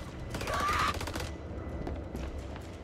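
A grenade launcher fires in a video game, one loud rough blast lasting about a second, followed by quieter rumbling and faint voices.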